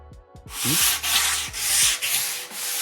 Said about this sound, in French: là on est en train de terminer de poncer les planches pour faire le dessus du bureau